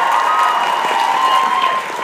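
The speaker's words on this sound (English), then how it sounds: "round of applause, Mr. Jason Mans" A live audience claps and cheers for performer Jason Mans, a continuous wash of applause with a steady tonal hum running underneath and a slight drop at the end.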